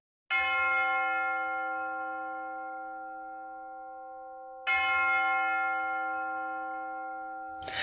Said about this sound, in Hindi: अचानक गिरजाघर की घंटियां जोर जोर से बज उठती हैं, जिसका इशारा था खतरे की घंटी।